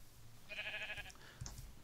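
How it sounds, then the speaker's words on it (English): A sheep in Minecraft gives a short, faint bleat, a single wavering call against quiet game background with a soft thump after. "Don't bah me, sheep."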